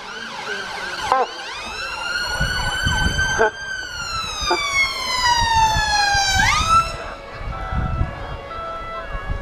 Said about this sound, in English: an emergency ambulance, and that comes through blues and twos